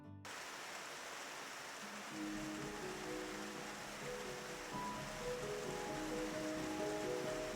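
Soft, steady rain falls outside a cottage in springtime, a continuous gentle hiss that stays low and even, with faint tonal sounds drifting in the background.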